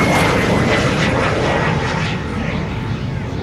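A British de Havilland DH-115 Vampire jet roars past low and fast at an air show, a loud continuous engine rush that fades slightly as it goes.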